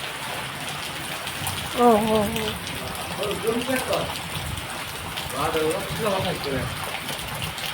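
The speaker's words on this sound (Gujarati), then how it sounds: "ક્યાંય બંધ જ નથી વરસાદ." Steady rain pouring down on a dark morning, a constant wash of noise with a voice briefly exclaiming over it.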